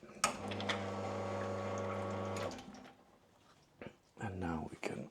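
Espresso machine flushing water through the group head, a steady pump hum with rushing water for about two seconds, followed by quieter gurgles and a person talking nearby.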